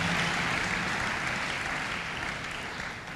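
A church congregation applauds during a worship service, a dense wash of clapping that holds steady and then tapers slightly toward the end.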